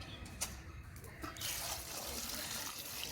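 Water pours in a steady, continuous stream into a cooking pot after a couple of brief clinks, filling the background at a moderate level.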